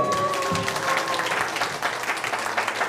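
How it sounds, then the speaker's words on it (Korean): Applause and cheering from a youth congregation at a church youth service, encouraging a student named Dong-wook in his weightlifting; dense steady clapping fills the room throughout at moderate loudness. "격려와 박수 한번 보내주세요"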